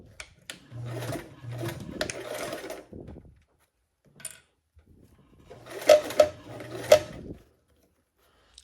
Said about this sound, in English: start sewing around our perimeter with a 1/4 seam allowance